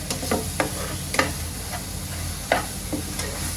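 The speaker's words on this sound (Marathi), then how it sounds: "मसाल्यांना चांगला मी परतून घेते वाटणाबरोबर" Spices and ground masala paste sautéing in a pan for a spicy Satara-style village mutton curry, a steady low sizzle broken by a few soft stirring scrapes, close and alone.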